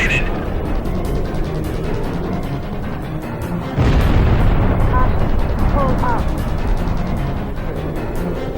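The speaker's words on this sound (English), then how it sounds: "Target hit confirmed." A missile explosion in the Ace Combat 5 video game, a sudden loud boom bursting out about midway through a continuous rumbling mix of game sound, with a few short electronic tones after it.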